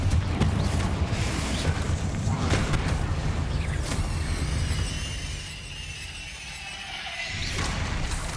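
Bombarda and Confringo spells going off in the game Hogwarts Legacy: heavy rumbling blasts with crashing debris and whooshes, loud for the first half, then a lower hollow echoing rumble that swells again near the end.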